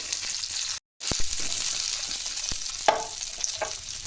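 Chillies and small shallots frying in a pan of roasted chana dal for a spicy chutney, a steady close sizzle with occasional stirring clicks and one brief dropout of sound.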